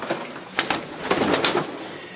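Janssen racing pigeons in a loft give short cooing calls and rustle nearby, against a steady background hiss.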